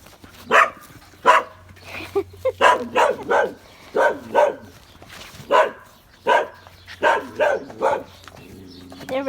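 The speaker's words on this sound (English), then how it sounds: "There's little puppies everywhere." Several puppies yap in short, high, repeated barks and yips, close by, in an uneven rhythm with brief pauses between bursts.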